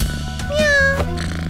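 A cartoon character's voice imitates a cat's meow, one drawn-out rising and falling mew with strong harmonics, briefly sung out alone at close range.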